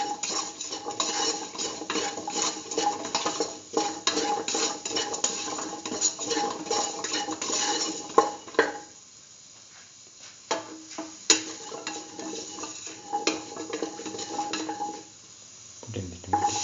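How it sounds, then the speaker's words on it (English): A spoon stirs salt into a pot of lentil pumpkin stew, scraping and clinking against the pot in a steady run of soft strokes, with a quieter pause partway through. "Mix in the salt."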